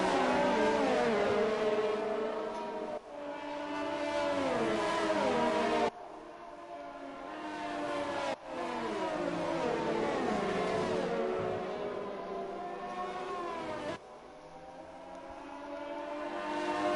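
Race cars in the F1 2020 video game at Melbourne, Australia, drone through a formation lap, engines revving and shifting pitch in a dense, continuous layered roar with no talk.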